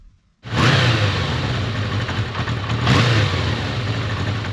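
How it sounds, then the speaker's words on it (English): A 1982 Kawasaki motorcycle's 553cc air-cooled inline-four engine starts and settles into a steady, smooth running drone, with a brief rise in revs partway through, close and loud throughout. "553cc air-cooled inline-4 engine pumping out 50 horsepower"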